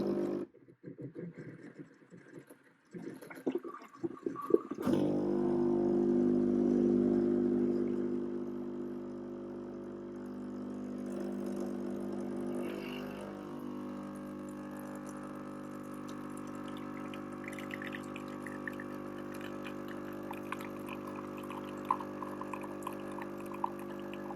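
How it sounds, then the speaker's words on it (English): Ninja Luxe Cafe Premier Series coffee machine brewing a double espresso, a loud pump buzz kicking in after some clicks, then a quieter steady hum with thin liquid trickling and faint ticks as the shot pours. "The next step is to press start brew, and we do that by pushing in this middle dial here. That will then pour us a double espresso."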